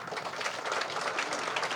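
An audience applauds award recipients at an alumni impact ceremony, a brief burst of dense, even clapping heard from a moderate distance with no voices over it.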